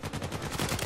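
Rapid automatic gunfire in the video game Uncharted 4, a fast run of sharp, evenly spaced shots packed into a brief burst, fairly close and alone without talk.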